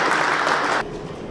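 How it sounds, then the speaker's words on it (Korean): Audience applause welcoming an education official at a diary exhibition ceremony, a brief dense burst of clapping that cuts off abruptly after under a second. "큰 박수로 맞이해 주시기 바랍니다."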